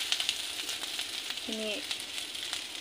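Soft, steady sizzle of potatoes frying in oil, a low crackling hiss with a few sharp pops and a brief faint tonal squeak partway through.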